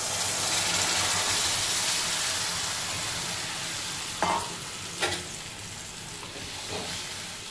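Onions stirred in a hot pan for egg pulusu, a steady close sizzle and hiss of frying with a few brief scraping strokes of the spoon near the end.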